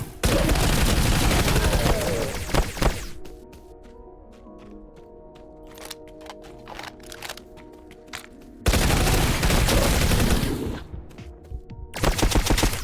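Automatic gunfire in the space shooter Astro Hunter VR blasts in loud sustained bursts at the start and again later, broken by a quieter stretch of faint electronic hum and clicks.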